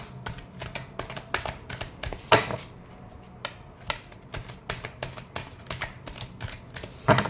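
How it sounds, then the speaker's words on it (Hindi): Tarot cards being shuffled by hand, a quick irregular series of soft riffling slaps and snaps, close and fairly loud, with short pauses between bursts. "last shuffle"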